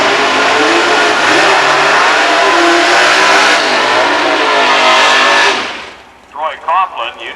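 Loud, close roar of a 1995 drag racing car at full throttle for about six seconds, cutting off sharply as it crosses the finish line, followed by a commentator talking.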